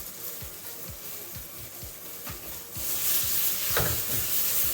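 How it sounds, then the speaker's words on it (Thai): Mushrooms sauté in olive oil in a pan, a steady sizzle with regular scraping stir strokes, the frying growing louder and brighter toward the end; no one talks. "ผัดให้เหลืองนะคะ เหลืองนิดหน่อยนะคะ ค่ะ เราใช้น้ำมันมะกอกนะคะ"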